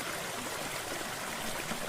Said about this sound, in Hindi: झरने की आवाज से दिल मचलित हो रहा था